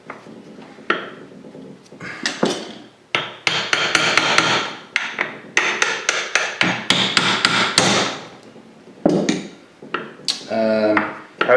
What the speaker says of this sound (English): then you got to hammer it this way out